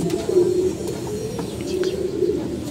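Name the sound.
pigeons cooing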